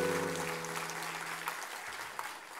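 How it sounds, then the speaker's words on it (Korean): Church congregation clapping during a Korean Sunday morning worship service, steady broadband applause that fills the whole clip, with a held sung or sustained tone fading out underneath early on. "한 번 더 격려와 축복의 박수."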